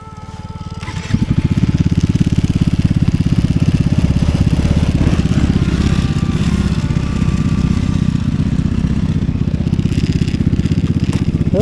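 A Widescape WS250 stand-up snowmobile rides along a snowy trail. After a quieter first second, its engine settles into a loud, close, steady throbbing drone that runs to the end.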